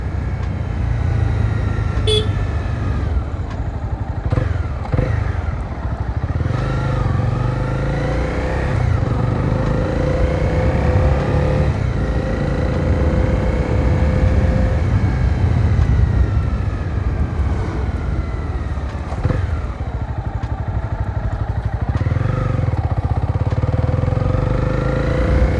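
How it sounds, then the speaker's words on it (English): A motorcycle engine drones steadily while riding on a short road ride, loud and close throughout with rising and falling pitch as revs change and a brief horn-like toot near the start. "The bike just sounds so fucking beautiful."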